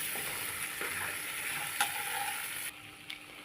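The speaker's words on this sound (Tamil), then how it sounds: "அதனால் பக்கத்தில் நின்று கிண்டி விட்டுட்டே இருக்கணும்." Chicken frying on high heat for chicken varuval sizzles steadily up close, with stirring scrapes, then the hiss drops off abruptly near the end.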